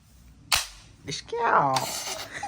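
A toy cap gun fires one sharp, close crack, followed by a child's excited vocal sounds and laughter-like noises indoors.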